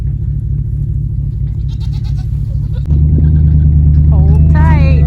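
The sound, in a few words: vehicle engine moving a hay trailer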